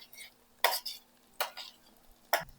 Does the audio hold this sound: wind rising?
no